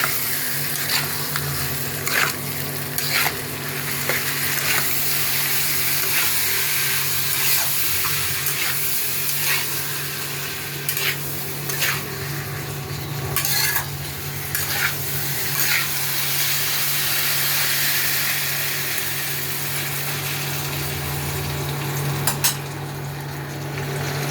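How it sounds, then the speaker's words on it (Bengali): Chicken pieces stirred into an oily spice masala in a pan make a continuous sizzle for about 24 seconds, with scraping stirs, occasional clinks of utensils and a low steady hum behind. "এখন আমি এই মাংসটা দিয়ে দেবো, ভালো করে মিশিয়ে নেব"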